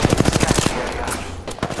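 Rapid automatic gunfire in a shooter video game, a quick burst of about ten evenly spaced shots followed by a pause and a few scattered sharper cracks, loud and close.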